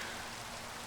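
Steady rain with wind outside a window, a dense, even hiss of falling drops that fills the whole moment at a constant low level, with no voices.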